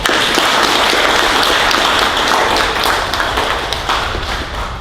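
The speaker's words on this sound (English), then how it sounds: "Let's give all of them a round of applause." An audience at a lake property owners' association board meeting bursts into sustained, dense applause, many hands clapping together in a room, with the sound fading slightly toward the end.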